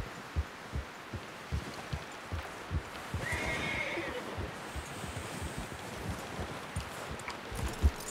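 Horse hooves clip-clop in a steady rhythm through Red Dead Redemption 2 gameplay, with a clear whinny rising briefly in the middle over a dense background bed.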